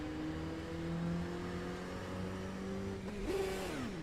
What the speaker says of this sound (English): That engine just went straight into first.